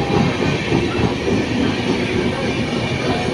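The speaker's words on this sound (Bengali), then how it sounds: "দেখ না, প্রত্যেকটা জেনারেল কোচ যাচ্ছে।" A long passenger train made up of general coaches rolls past at close range with a loud, continuous rumble and clatter of wheels on rails.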